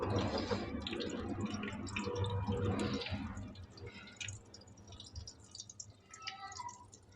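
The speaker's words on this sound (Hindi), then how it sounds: "आधा किलो बेसन है इस और 1 पाव हम इसके अंदर घी डाल रहे हैं और इसको फ्राई करेंगे।" Ghee is poured into half a kilo of gram flour in a pan for besan halwa, giving a soft liquid trickle and drip that fades into quieter faint clinks and spatters.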